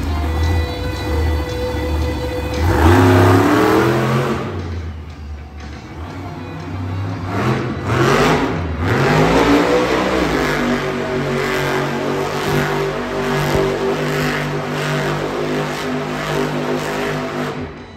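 The Megalodon monster truck's engine roars and revs at a Monster Jam show in Tucson, Arizona, loud with rising and falling pitch sweeps over steady crowd and arena noise.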